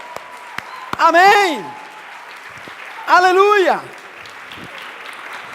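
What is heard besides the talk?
church congregation applauding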